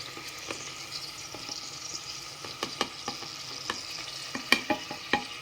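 Meat being stir-fried with biryani spices, cumin, chilli, coriander, ginger-garlic and salt, in a pressure cooker, a quiet low sizzle punctuated by crisp spoon scrapes and taps that grow louder toward the end, without speech.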